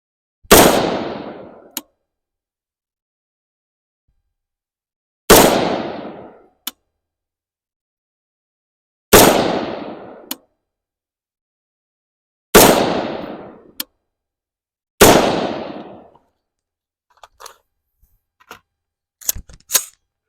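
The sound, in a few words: Palmetto State Armory Sabre rifle firing five rounds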